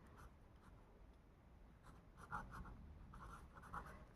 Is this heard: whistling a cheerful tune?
no